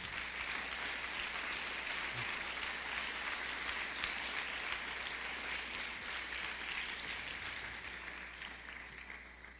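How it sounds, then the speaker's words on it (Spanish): A church congregation claps as an offering to the Lord, a sustained wash of many hands that stays even, slightly distant and then eases off toward the end, with no voices over it. "Den una ofrenda de palmas usted al Señor."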